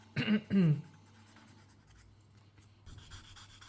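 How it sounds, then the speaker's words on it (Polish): Two quick, rasping strokes of 600-grit sandpaper against the edges of a leather wallet, followed by softer, faint scraping as the sanding continues. "najpierw wszystkie te nierówności muszę przejechać jakimś papierkiem ściernym"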